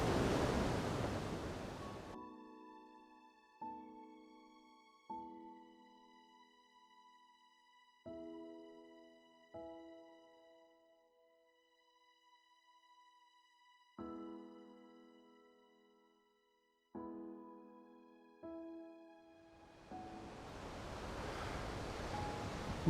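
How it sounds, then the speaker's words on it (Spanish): Cascading waterfall water rushes as loud, steady broadband noise at the start and again at the end, with sustained bell-like musical tones ringing in between and no talking. "Vamos a las cascadas."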